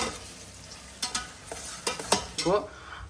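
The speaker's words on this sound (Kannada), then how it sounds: "ಈರುಳ್ಳಿ ಚೆನ್ನಾಗಿ ಹುರಿದು ಗೋಲ್ಡನ್ ಬ್ರೌನ್ ಕಲರ್ ಆಗೈತೆ" Onions frying in a pan until golden brown for egg biryani, a soft, quiet sizzle punctuated by several sharp scrapes and clinks of stirring, close up and without talking.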